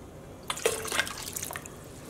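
White vinegar is poured into a yarn dye bath, a brief, close splash and trickle of liquid that starts abruptly and fades within about a second and a half.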